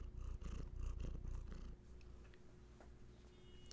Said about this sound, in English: you got the purrs?